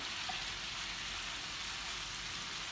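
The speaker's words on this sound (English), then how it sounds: "My butter is melting. Beginning to sizzle." A steady, soft sizzle of spätzle frying in melted butter, a continuous crackly hiss with no talking.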